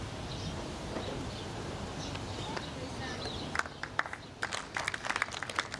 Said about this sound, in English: And token applause from the crowd.